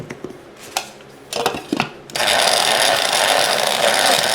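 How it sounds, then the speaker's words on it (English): Electric grinder coarsely chopping rosemary, whole marjoram and parsley together: a few short clicks and taps, then a loud, steady whirring grind that runs to the end, with no voices. "I'm going to take some rosemary, some whole marjoram, and some more parsley. And I'm just going to give them a coarse grind together."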